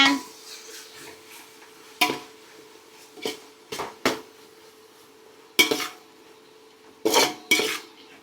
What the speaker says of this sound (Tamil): தக்காளி போட்டு நல்லா வதக்கி விடுங்க